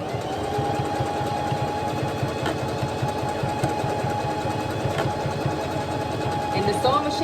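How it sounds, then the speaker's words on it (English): A sewing machine stitching single wig tracks runs in a continuous, rapid mechanical whir close by, its steady rhythmic chatter holding throughout with no pauses. "And the sewing machine moves itself."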